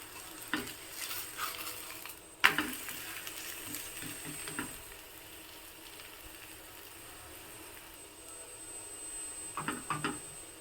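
Mysore-style breakfast batter frying in oil on a pan, a soft continuous sizzle with occasional clinks and scrapes of a spatula, fairly quiet.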